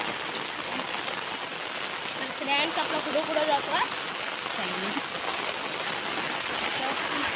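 Steady rain hisses throughout, with a few voices talking briefly over it partway through.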